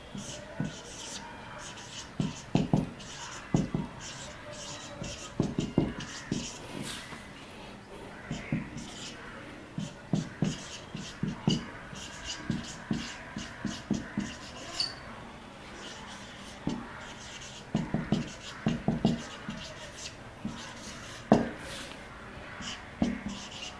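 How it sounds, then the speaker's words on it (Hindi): Marker or chalk writing on a classroom board during a chemistry lecture, heard as repeated short scratchy strokes in bursts across the clip, with a quieter stretch in the middle. "यहाँ मैं लिख दे रहा हूँ, नोट करेंगे आप।"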